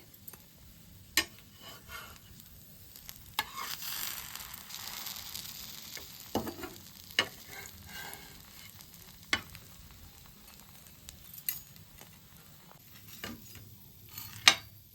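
Slices of bread fry in a pan for a sandwich, giving a steady soft sizzle with occasional light scrapes and taps as they are turned, close and fairly quiet, with no talking.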